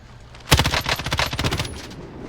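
An M13 assault rifle fires in the battle royale game Warzone: one rapid automatic burst of about a dozen close, loud cracks lasting just over a second, then a quiet tail.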